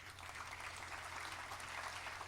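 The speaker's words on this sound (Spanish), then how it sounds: "Un aplauso para ellos." Continuous applause from a conference audience in Peru, an even wash of clapping that holds steady throughout without voices.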